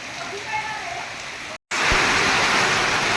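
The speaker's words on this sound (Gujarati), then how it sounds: "બહુ વરસાદ છે એ ચાલુ થયો છે જોરદાર" Downpour on clay roof tiles gives a thick rushing hiss that cuts out for a moment, then returns louder and heavier, like water streaming off the roof.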